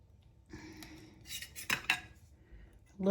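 A knife cuts into a slice of baked meatloaf, bringing a few light scrapes and clinks of cutlery against a dish, close and quiet with a louder knock at the end, and no one speaking.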